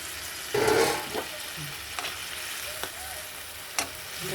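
Bhola fish is tipped into a pot of simmering spiced dal, making a brief loud splash and sizzle. Quieter bubbling and the odd soft clink of a utensil follow.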